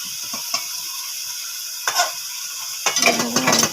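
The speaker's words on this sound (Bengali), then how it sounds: "মাংসটা এবার ভালো করে মশলার সঙ্গে নেড়ে চড়ে নেব" Duck meat and spices are stirred in a pot over a village clay stove, with soft scraping and clinking strokes in bursts over a faint steady sizzle.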